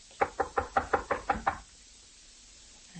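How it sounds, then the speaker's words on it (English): Eight firm, evenly spaced knocks land on a door in a quick steady run, close and clear, followed by quiet room tone. "Here's his room. I'll knock."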